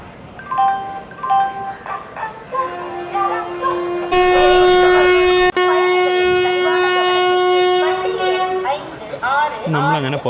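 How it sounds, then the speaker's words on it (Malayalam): Passenger train horn sounding at departure from Coimbatore, several loud sustained tonal blasts, the longest lasting about four seconds, close and dominant over a noisy background. "1-2 പ്രാവശ്യം ഹോൺ അടിച്ചായിരുന്നു."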